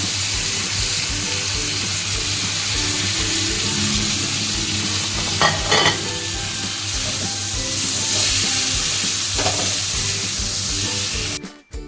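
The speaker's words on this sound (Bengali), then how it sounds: "এবারে এই কাঁচা কুমড়োটা দিয়ে দিলাম ভাজা" Raw pumpkin fries in oil with cooked-down spice paste for a pumpkin and shrimp curry: a continuous close sizzle with repeated scraping and stirring in the pan, ending in a brief clatter.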